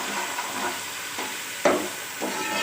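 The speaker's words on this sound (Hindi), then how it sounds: "इसको हम अच्छे तरीके से फ्राई कर लेंगे" Crushed garlic and green chillies fry in a pan with a soft, steady sizzle and a few scraping stirs, one sharper clatter midway, and no voices.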